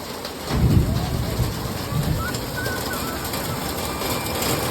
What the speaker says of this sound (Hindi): फिर से ओले बरसने लग गए आज, देखो